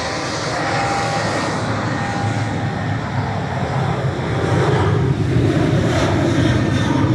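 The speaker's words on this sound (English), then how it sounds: "Another one departing for Ryanair with flight 641 to Valencia." Ryanair jet airliner departing Manchester Airport, a loud continuous engine roar that grows stronger as the aircraft climbs away.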